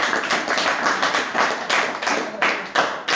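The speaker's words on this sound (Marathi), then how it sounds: "सर्वांनी जोरात टाळ्या वाजून या" An audience claps loudly in uneven waves of sharp hand claps that surge and dip, with a few louder bursts toward the end.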